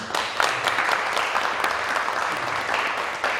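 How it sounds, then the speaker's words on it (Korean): A crowd applauds with steady, dense clapping that continues throughout, fairly loud and close. "박수 한번 주시기 바랍니다"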